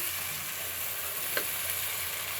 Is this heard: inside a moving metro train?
no